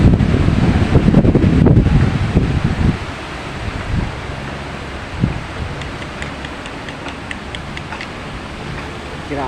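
Powerful gusts of Typhoon Uwan tossing trees, a loud buffeting roar at first that eases into a steadier, softer rush with rustling leaves and occasional thumps.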